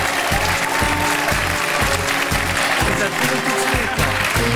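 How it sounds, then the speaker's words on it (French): Theater crowd applauding at a French comedy show as performers are called onstage, loud continuous clapping over a pulsing rhythmic music track underneath. "sous vos applaudissements"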